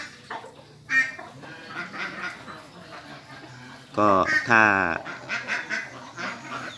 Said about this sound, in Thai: ตอนนี้ก็เหลือเป็ดบาวารี่ผมเลี้ยงเอาไว้ตอนนี้เหลืออยู่แค่9ตัวครับ